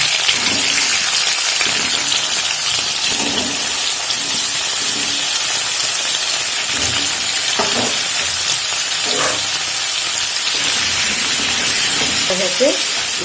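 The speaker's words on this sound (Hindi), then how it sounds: "ये पनीर के टुकड़े को डाल करके थोड़ी सी भून लूँगी इसे" Paneer pieces shallow-frying in oil for matar paneer: a loud, dense, continuous sizzle close up, with a few soft clinks and stirring bumps along the way.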